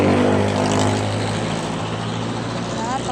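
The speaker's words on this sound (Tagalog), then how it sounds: "napakaingay ng mga sasakyan." Loud road traffic roars close by as cars and trucks pass, a heavy engine rumble that is strongest at first and eases slightly, with a voice speaking over it.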